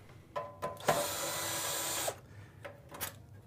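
Screws are backed out of the casing of an Expobar espresso machine with a power driver: one sustained whir of about a second, framed by short clicks and taps, close and fairly quiet.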